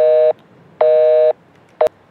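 A telephone busy tone in Farming Simulator 22 after the caller hangs up: loud, clean, steady beeps, two full pulses and a short third, alone with no talk.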